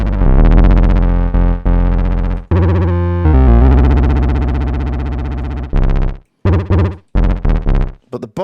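Arturia MiniBrute analog synthesizer playing loud, heavily distorted sustained notes with a huge bottom end, shifting through several tones before breaking into short choppy stabs near the end.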